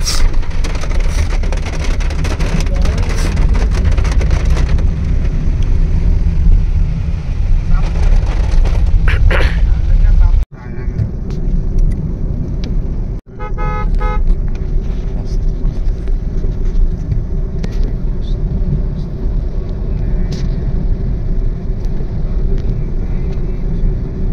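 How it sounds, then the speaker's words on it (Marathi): A car drives along village roads near a bridge, with a steady, loud in-cabin rumble of road and engine noise and a rain-like hiss that continues throughout, broken only by two brief dips. "गाडी माझी चालली मस्त."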